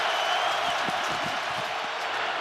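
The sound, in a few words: NFL stadium crowd din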